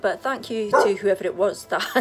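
A dog yips and barks in short bursts close by while someone speaks over it.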